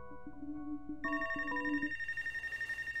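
A phone rings in the video game Life is Strange Wavelengths DLC, a bright electronic ringtone that starts as a low tone pattern, then jumps to a higher repeating trill pulsing rapidly toward the end.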